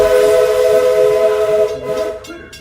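A Walt Disney World Railroad steam train pulls into Frontierland Station at Magic Kingdom, its loud, sustained whistle sounding close by before fading into rumbling and clanking as the cars roll in.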